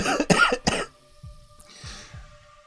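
A man coughs several times in quick, harsh bursts close to the microphone, followed by quieter throat sounds over faint electronic background tones.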